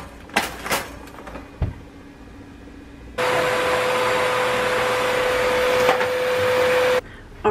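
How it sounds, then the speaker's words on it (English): A vacuum cleaner switches on after a few knocks and bumps, droning loud and steady with a constant whine for about four seconds before cutting off abruptly. "I was supposed to vacuum."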